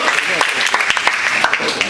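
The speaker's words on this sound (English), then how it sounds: "If you believe that God is going to answer you tonight, can you just give him a round of applause tonight?" A congregation applauds loudly during an evening church service, sharp clapping with distinct hand strikes over a crowd of voices cheering and calling out.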